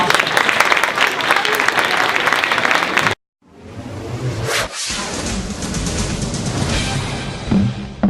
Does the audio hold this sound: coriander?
no